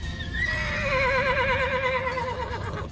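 A horse whinnies loudly and excitedly on arriving at a new pasture on a farm, one long wavering neigh that rises and then trails off, with no talk.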